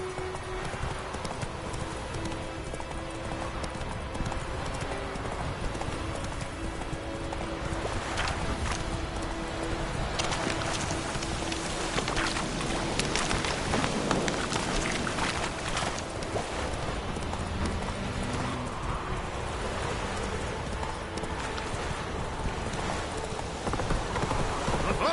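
Roach the horse in a video game: steady rhythmic clip-clop of hooves at a trot or gallop runs throughout, close and continuous over a windy outdoor bed, with a brief whinny.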